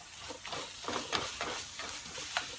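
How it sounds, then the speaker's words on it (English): Butter melting and sizzling in a pan with eggs for a keto breakfast, a close crackling sizzle with repeated sharp pops and spits over a soft hiss. "I'm going to throw in at the last second 1 ounce of butter"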